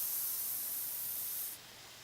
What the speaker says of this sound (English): Oh, you can hear the hiss. You can see the bubbles.